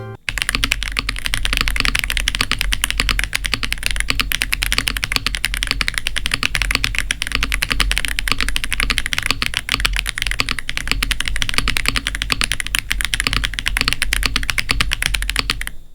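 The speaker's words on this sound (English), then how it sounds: "Switches super light, super smooth to type on." Fast, steady typing on a Redragon ANTONIUM K728 PRO mechanical keyboard with very light, smooth switches, dense clacking keystrokes close up and continuous throughout, with no voices.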